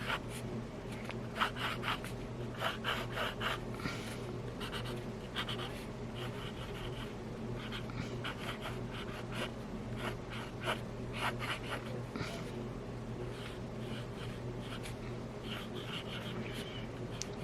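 Extra fine nib of a Platinum Desk fountain pen scratching across paper in steady drawing strokes, a soft continuous scritch with short repeated bursts, close and quiet, over a low steady background hum.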